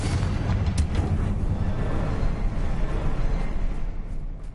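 A Confringo blast spell goes off in Hogwarts Legacy: a dense, booming, rumbling explosion that fills the whole stretch at steady loudness, with no voices over it.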